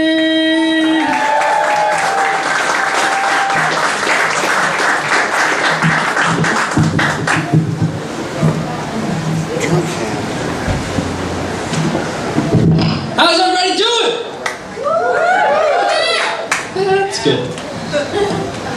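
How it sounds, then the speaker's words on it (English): A live comedy audience applauds for a comedian, dense sustained clapping that fades after several seconds as a voice starts speaking over the room. "Please put your hands together for Mr."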